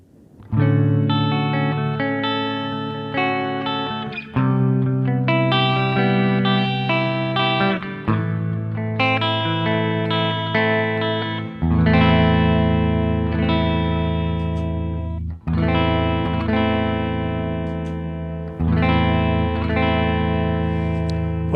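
Electric guitar chords ring out continuously through a MOOER Red Truck modulation effects pedal, strummed in sustained phrases with a warm, shimmering, slightly distorted tone and no voices.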